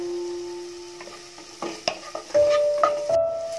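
Chopped green chillies and ginger garlic paste frying in a pan give a soft sizzle that swells louder, with a few spoon knocks and scrapes partway through.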